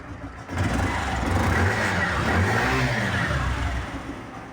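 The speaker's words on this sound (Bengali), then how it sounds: "বাইকের পিক আপ দিয়ে দেখালাম আমরা" A motorcycle engine, a used bike in good running condition, revs up from idle to show its pickup, a loud sustained rising and falling engine roar held for several seconds after a quieter start.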